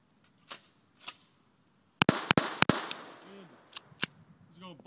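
A shotgun loaded with double light buckshot fires at pumpkins outdoors: four loud, sharp blasts in quick succession, then two more spaced shots, with a few voices talking before and between them.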